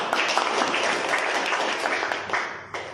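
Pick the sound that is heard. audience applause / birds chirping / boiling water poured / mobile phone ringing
audience applause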